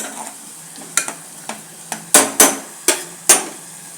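Masala fries in leftover oil for a beet and dry fish dish, quiet sizzling broken by sharp, irregular clacks of a spoon against the pan, close and clear.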